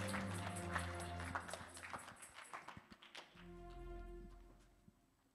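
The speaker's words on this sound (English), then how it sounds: "And clap your hands for Jesus." A church congregation claps along, a run of sharp, fairly quick hand claps over a sustained musical backdrop, fading into a held low tone.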